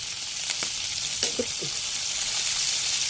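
Pork fries in a pan with a constant dense hiss close by, broken by a few short scraping stir strokes and no voices.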